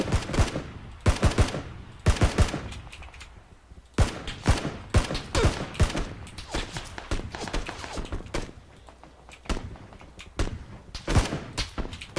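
Rifle gunfire in the PUBG battle royale game, including SKS shots: repeated sharp, loud cracks arriving in irregular bursts and single shots across the whole stretch, with dense overlapping reports at times.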